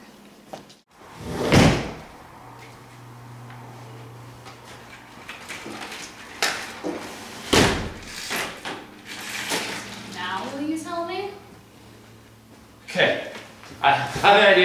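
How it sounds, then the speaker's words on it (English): Doors bang shut and latch several times, with sharp slams and clunks spaced apart amid people talking and other movement indoors. "lock all the doors and shut the windows"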